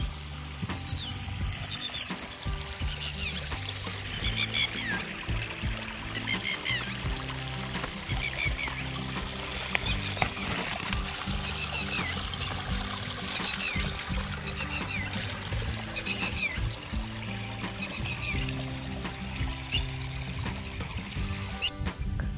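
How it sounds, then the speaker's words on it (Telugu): Water flows steadily out from a rock outdoors in a tribal forest area, a continuous soft trickling and splashing that stays constant and fairly quiet throughout. "ఆ ఫ్లో అయ్యే టైంలో ఆ వాటర్ సౌండ్ చూడండి ఎంత బాగుందో,"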